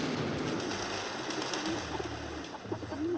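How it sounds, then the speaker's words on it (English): Doves cooing in a scene from the 1975 period film Barry Lyndon, soft low repeated coos rising over a quiet, steady background hiss with no talking. "The doves."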